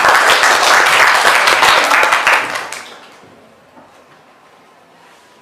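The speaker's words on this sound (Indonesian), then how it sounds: "Beri tepuk tangan yang sudah menjawab." Classroom applause from students in an Islamic jurisprudence lesson, a burst of dense clapping lasting about two and a half seconds before fading into quiet room tone.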